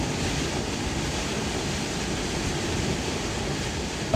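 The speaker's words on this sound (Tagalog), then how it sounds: "lakas ng agos dito" Strong floodwater current rushes over a flooded road in Bogtong Bolo, Mangatarem, a dense, steady roar of broadband noise that stays constant and close throughout.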